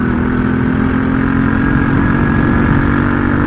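A small RX9 50cc motorcycle engine runs with a steady, loud, unbroken drone, close up and without voices.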